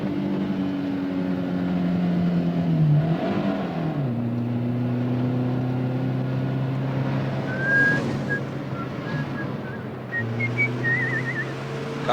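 A car cruising at around 100 km/h gives a steady, fairly loud engine drone whose pitch dips and rises, with faint whistling tones over it and no voices.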